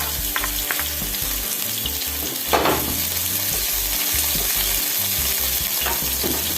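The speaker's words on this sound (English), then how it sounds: "I think she's frying the meat up first." Meat sizzles and fries in a pot for cook-up rice, a steady loud crackling hiss with occasional stirring scrapes and bursts, no talking.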